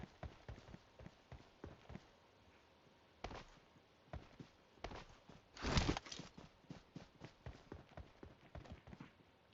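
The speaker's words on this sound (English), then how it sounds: "Footsteps." Footsteps in PUBG Mobile patter in a steady run, close and crisp with a few heavier thuds along the way, quiet overall with no talk.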